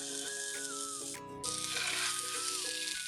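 Beef sears in a hot pan over high heat, giving a loud, continuous sizzle with a short dip partway through before the hiss surges back, while background music plays along.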